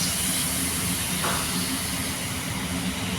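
Water pours in a steady, close hiss that runs unbroken for about three seconds, fairly loud and alone without any voices.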